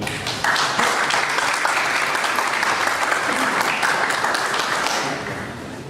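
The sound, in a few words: audience applause welcoming a lawyer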